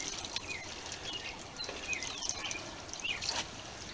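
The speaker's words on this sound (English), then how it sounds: "we're going to gently water in these things a little" Water is gently poured over newly sown garden seeds, giving soft trickling and dripping patters with a few faint bird chirps in the background, quiet and close.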